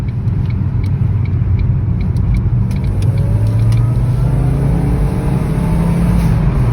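Ford Focus with a small 1.6 engine pulling steadily on a roundabout, a constant close engine drone from inside the car with the pitch rising gradually as it accelerates, no talk.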